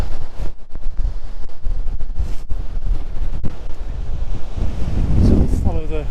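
River water rushes steadily beside a riverside walk on a route past waterfalls, a loud continuous wash mixed with heavy wind buffeting on the microphone, with no voices.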